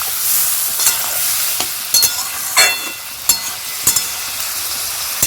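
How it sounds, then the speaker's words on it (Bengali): Vegetables and spices for a vegetarian curry sizzle steadily as they are sautéed together in a pan, with a spatula scraping and clinking against the metal at irregular intervals. "সব কিন্তু একসাথেই কষাচ্ছি, যেহেতু নিরামিষ তরকারি"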